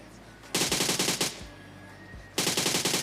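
Rapid automatic gunfire from a mobile shooting game on a Redmi Note 8 Pro, two loud sustained bursts of rattling shots separated by a quieter pause, with no talking.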